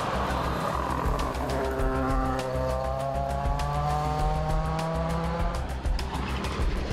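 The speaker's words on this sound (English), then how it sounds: "It hasn't taken Levac long to get up to speed in his raspy new Mini" A raspy new Mini rally car racing at a Rallye Baie des Chaleurs stage, engine note climbing through gears with a sustained rasp, loud and close with tire noise.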